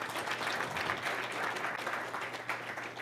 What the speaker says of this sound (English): Yeah, you can give a round of applause.